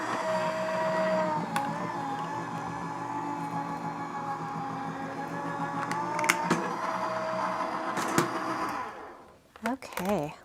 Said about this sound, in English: then we'll run this through my die cutting machine